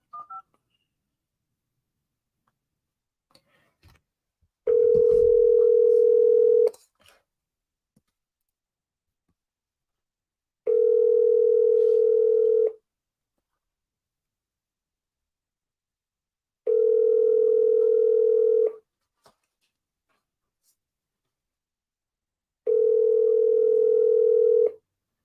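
A telephone number is keyed in with a few soft clicks, then a steady dial tone sounds in four separate long bursts with silent gaps between them, loud and alone with no talking.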